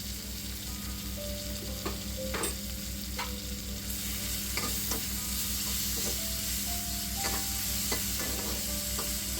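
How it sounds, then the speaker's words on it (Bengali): Ginger garlic paste and masala spices sizzle and fry in a pan for cheesy pasta, with a constant crackling hiss and repeated scrapes and clicks of a stirring spoon against the pan. "আমরা মশলা যেভাবে কষিয়ে থাকি সেভাবে আমি সমস্ত উপকরণ একসঙ্গে কষিয়ে নিলাম।"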